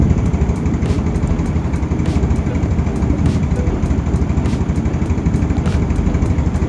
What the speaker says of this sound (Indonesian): Ntar gue kecilin dulu langsamnya.